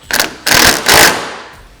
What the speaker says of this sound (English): It's going to be a 12mm wrench and a 13mm socket to fully tighten